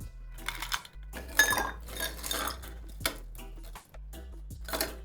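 Ice rattles and clinks against mojito glasses as two drinks are stirred, giving bright, close, irregular clattering strokes with short pauses between bursts.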